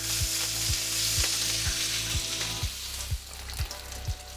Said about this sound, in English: The sound we're looking for. Nice good sear on both sides.